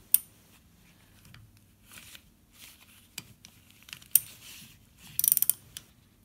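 A ratchet wrench works on a shock absorber nut of a Renault Clio 2, giving quiet, irregular clicks and small metallic ticks close by, then a quick cluster of sharper clacks near the end, with no voices.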